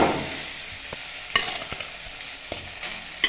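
Cooked rice is stirred with a spoon into sautéed grated ginger and salt in a hot pan, giving a soft sizzle under irregular scraping strokes and a few sharp clinks against the pan.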